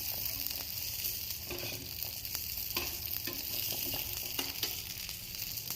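A tikki fries in a pan, giving a steady close sizzle with scattered small pops and crackles, with no talking.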